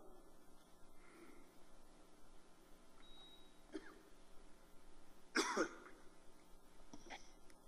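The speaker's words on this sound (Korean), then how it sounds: "아직도 찬바람이 오면 좀 기침이 납니다" A preacher coughs once during a Sunday worship sermon in a quiet church: one short, harsh burst of coughing, with faint throat noises and quiet room sound around it.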